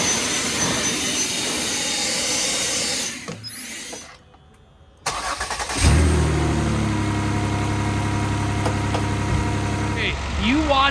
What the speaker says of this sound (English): now I brought the leaf blower out